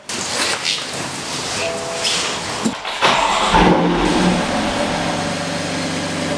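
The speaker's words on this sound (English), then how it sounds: "It's got sports mode on the exhaust" A BMW M4 engine cranks and fires up with a loud roar around the midpoint, then settles into a deep, rumbling idle from the exhaust in sport mode, close up.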